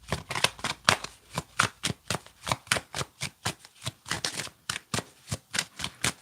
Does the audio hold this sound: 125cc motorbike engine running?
no